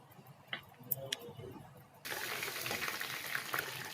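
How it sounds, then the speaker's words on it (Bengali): Chicken pieces fry in oil for a chicken roast, a soft steady sizzle that jumps louder halfway through and holds as a dense crackling hiss, with a few faint ticks early on and no talking. "চিকেন ভাজা মোটামুটি কমপ্লিট"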